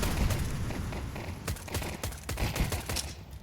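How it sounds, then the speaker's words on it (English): Gunfire and grenade blasts from a Counter-Strike match, a steady din of shots with several sharp bursts clustered near the end, loud and close, with no voices. "Nades go out."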